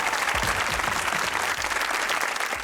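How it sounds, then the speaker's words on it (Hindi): A studio audience at a comedy talk show claps loudly and continuously for a few seconds, the thick applause close and even throughout. "तालियां।"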